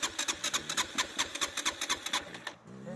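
A KEWS 450 motorcycle engine chugs in a fast, regular run of loud pulses, then cuts off abruptly, leaving a quiet pause.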